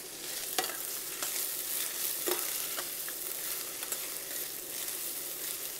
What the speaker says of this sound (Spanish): Y vamos a agregarle una cebolla picadita en cuadritos. Y la vamos a revolver.